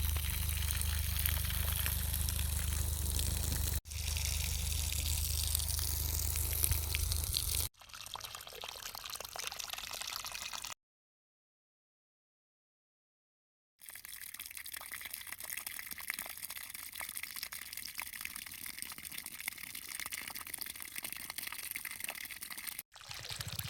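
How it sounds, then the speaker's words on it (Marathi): Water flows from a pipe along rows of a maize field, a steady rushing, splashing stream in several cuts, broken by a few seconds of total silence partway through. "बागाच्या कडेच्या वळीची पाईप काढून आणल्या आणि असं पाजायला लागलो पाणी प्रत्येक ओळ धरून."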